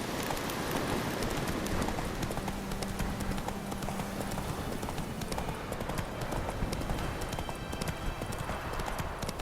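A horse gallops in the video game The Witcher 3: Wild Hunt, with a fast, continuous clip-clop of hooves, loud and close, over a dense ambient background.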